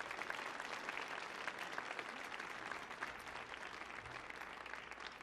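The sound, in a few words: audience applause for the Kennedy Center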